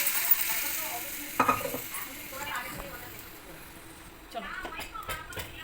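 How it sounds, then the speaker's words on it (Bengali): Black cumin seeds and green chillies hit hot oil to temper dal, giving a quiet hiss with a few soft clatters of stirring and spoon taps, while a voice talks faintly nearby. "ডালে ফোড়ন দিচ্ছি জানো বন্ধুরা, দেখবে এই দেখো কালো জিরে ফোড়ন"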